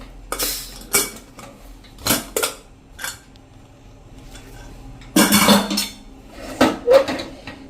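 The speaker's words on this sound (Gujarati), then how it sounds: "તો કુકર આપણે ખોલીને જોઈ લઈએ।" Pressure cooker lid being opened after cooking moong, with sharp metallic clanks and clatters of pot and lid in several separated bursts, a longer rattling scrape midway, close and loud without talk.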